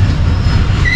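The Shalimar Express passenger train rumbles loudly as it slows at a station, with heavy low wheel noise and a brief high squeal of braking wheels near the end.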